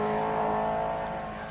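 Talbot Sunbeam rally car driven hard up a hill by Henri Toivonen approaching Four Counties corner, engine roaring loud and continuous at high revs with a slight fade near the end.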